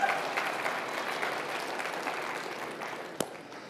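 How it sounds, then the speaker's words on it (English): An audience claps for itself at an ASHRAE annual conference plenary session, a full, steady rattle of many hands that slowly thins and fades toward the end, broken near the close by a single sharp knock. "Give yourself a round of applause for coming a long way."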